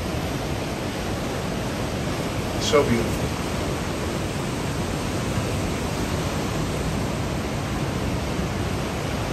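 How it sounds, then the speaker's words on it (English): Pacific Ocean surf pounds the California coast in a steady, loud broadband wash that never lets up. A voice speaks briefly over the roar. "the just awesome power of the Pacific Ocean"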